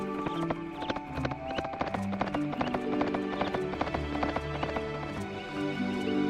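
Horse hooves clip-clop in the video game Suikoden III over a layer of tonal game music, the hoofbeats quick and steady throughout at moderate volume.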